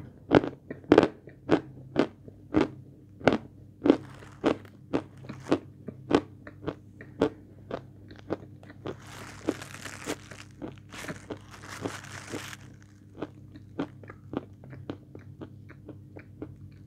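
Crunchy orange marshmallow being bitten and chewed close up: a long, steady series of sharp, crisp crunches at roughly even intervals, with a few crinkly rustles midway and no talking.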